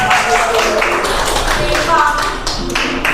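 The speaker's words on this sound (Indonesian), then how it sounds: "Tepuk tangan." Students in a ninth-grade classroom break into loud, sustained clapping that fills the room, with voices mixed in throughout.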